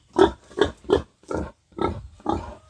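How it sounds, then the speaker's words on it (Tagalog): A sow grunts six times in a pen on a small pig farm, the short, loud, rhythmic grunts evenly spaced and close by, with no talk over them. "Tapos dito na si Mama Pig."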